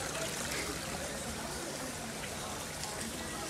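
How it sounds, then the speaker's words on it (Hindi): Heavy rain and floodwater at a school, with water trickling and streaming in a soft, continuous wash at fairly low level, the flooded classroom setting heard without clear talk. "स्कूल में बड़ी बारिश हो रही है।"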